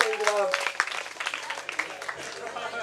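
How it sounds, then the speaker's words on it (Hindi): A crowd claps at a village night stage show after a quiz answer, a short burst of applause mixed with a voice speaking over it. "जोरदार ताली दीजिए"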